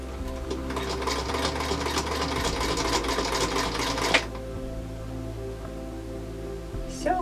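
A sewing machine runs a seam in a fast, steady mechanical chatter of the needle for about four seconds, then stops abruptly with a clunk, leaving a quiet motor hum and a brief click.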